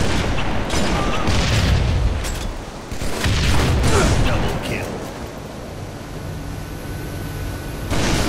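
A grenade detonates in Halo 3 multiplayer amid loud, dense gunfire and booming blasts, a constant roar of battle with brief dips, voices chatting over it.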